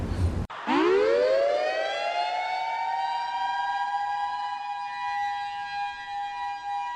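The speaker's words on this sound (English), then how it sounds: "The siren has sounded" After a brief burst, an alarm siren at an NFL game winds up from a low growl to a steady, piercing wail that holds loud and unbroken.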